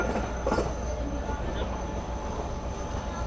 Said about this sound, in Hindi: ट्रेन का बहुत देर बाद मूड बना है प्लेटफॉर्म पर लगने का